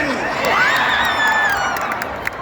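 A packed hall of Smallville fans at a panel with Erica Durance and Tom Welling keeps up a loud vaia cearense mock boo, a steady wall of shouting and whooping with scattered claps and sharp cries over it.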